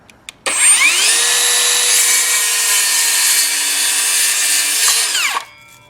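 A SCANS 20V cordless mini circular saw makes a single cut, its motor whining loud and close for about five seconds at a steady pitch before spinning down abruptly.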